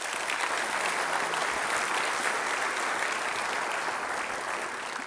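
Steady, dense applause from a large audience at a Long Beach city development update, honoring the Douglas Park development, sustained at an even level for the whole stretch with no talk over it.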